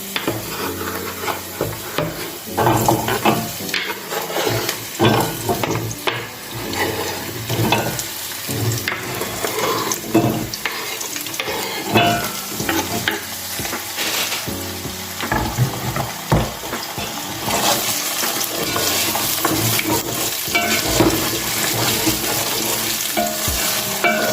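Potatoes frying in hot oil in a home kitchen while making a meatless Azerbaijani soup, with steady loud sizzling and repeated scraping stir strokes throughout, no talking.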